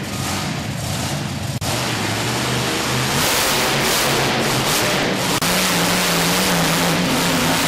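A monster truck called the toxic truck revs its big engine hard on an arena track at a Youngstown, Ohio event, loud, throaty surges rising and falling as it launches into wheelies.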